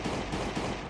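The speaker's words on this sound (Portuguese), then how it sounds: "Mas pra ir mais rápido, eu fui atirando, ó." A rapid burst of gunfire in a Last Day on Earth video game comes as three quick, punchy shots in a row, loud and close, with no talking.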